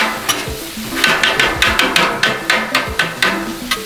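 Stir-fry meat sizzles loudly on a Blackstone griddle while metal spatulas scrape and clack against the flat top in a quick, steady rhythm of sharp hits over the hiss.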